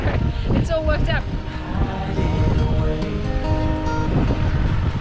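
Steady wind gusts buffet the microphone alongside a continuous wash of ocean waves on the Quobba coast, loud and unbroken from start to finish, with a voice speaking briefly early on.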